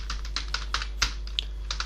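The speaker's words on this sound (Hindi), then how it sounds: "ये देखिए अब इसके अंदर हम टाइप करेंगे अपना कोड।" Quick, light clicking of computer keyboard keys as code is typed, roughly a dozen close, crisp keystrokes in an uneven rhythm over a low steady hum, with no voices.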